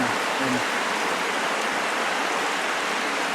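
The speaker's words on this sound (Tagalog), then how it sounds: "Biglang lumakas ang ulan." Heavy rain during a road trip in Real, Quezon pours down in a loud, dense, unbroken roar, hissing steadily and close by with no pauses.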